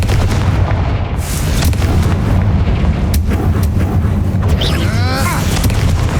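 Loud, continuous booming blasts and crackling from the Confringo blasting spell in Hogwarts Legacy, a dense barrage of explosions filling the whole stretch, with a faint voice or whistle-like sweep near the end.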